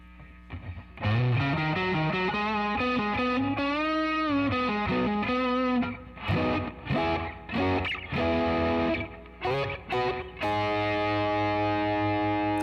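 Electric guitar through a Wampler Tumnus Deluxe overdrive pedal with extra gain, bending lead phrases followed by choppy driven chords and a final ringing chord, loud and close with no talking.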